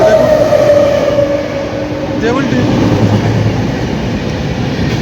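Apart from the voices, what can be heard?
train arriving at Deulti station platform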